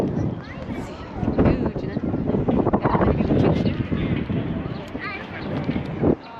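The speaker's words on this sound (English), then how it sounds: "It's pretty windy. It probably doesn't sound very good." Strong wind buffeting a microphone in a huge open city square, a continuous loud rumbling roar with gusty surges throughout.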